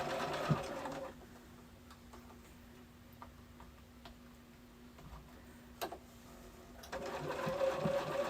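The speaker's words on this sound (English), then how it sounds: "And I'm just sewing right along." A sewing machine stitching a summer muumuu dress, running in a steady rapid ticking rhythm for several seconds, with quiet handling sounds at the start and the end.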